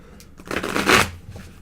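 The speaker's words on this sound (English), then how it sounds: "Cards are still a little stiff, despite all the use I do give them, but I do like it. It shuffles okay enough." A slightly stiff tarot card deck is riffle shuffled once, a quick papery ripple that swells to a crisp peak and then trails off into a few soft taps, close and alone.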